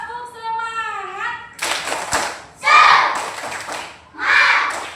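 Students do a rhythmic 'tepuk semangat' cheer, a sustained chanted voice followed by three separate bursts of group clapping, loud and close, with children's voices shouting along in each burst.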